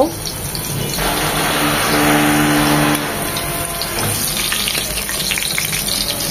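Thin round slices of young teasel gourd (kakrol) sizzle and spit in hot oil in a pan, a steady close frying hiss that swells briefly and then settles, with no voices.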